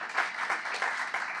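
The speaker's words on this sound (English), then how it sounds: "So just want to give a round of applause to Texas 2036." Audience at a Texas legislative session event applauding, a brief moderate patter of many hands clapping at a fairly even rhythm.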